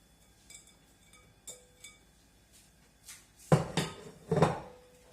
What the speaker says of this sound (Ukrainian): І кладу сюди цю сковорідку. І всі яблучка всі висиплю.